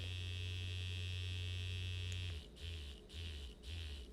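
A steady mechanical buzz hums continuously, then breaks into short pulsing bursts with brief gaps, close and fairly loud, like a device vibrating in different patterns.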